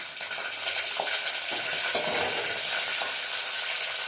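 Four green chillies fry in hot oil after mustard seeds have spluttered, for a tomato kurma, making a loud, constant sizzle broken by a few spoon scrapes and stirring knocks, with no talking.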